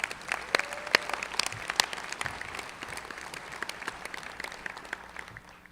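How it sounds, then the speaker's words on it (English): A large audience at an NYU Stern baccalaureate ceremony for the class of 2017 applauds steadily, with dense, irregular clapping that fills a big hall and fades slightly toward the end. "Let's give them another big round of applause"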